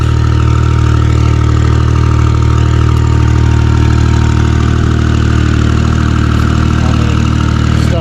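A Ventrac power rake runs close by, giving a loud, continuous engine drone with a steady low hum and a constant mechanical rumble that stays even throughout, with no talking.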